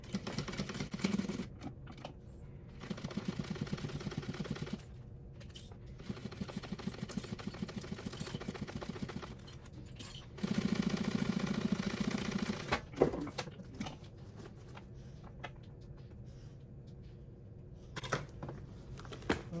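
A sewing machine stitches a zipper pocket on a handmade purse in several rapid mechanical bursts of a few seconds each, separated by short pauses, close and moderately loud.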